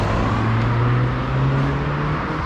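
A car rumbles past on a street in La Cañada Real, Madrid, its engine drone steady and close before easing off, with no voices over the road noise.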